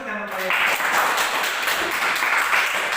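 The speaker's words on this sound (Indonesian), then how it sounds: "Tepuk tangan untuk teman saya." Students in a classroom clap for a classmate after a self-introduction, a short burst of moderate applause that follows a brief voice at the start.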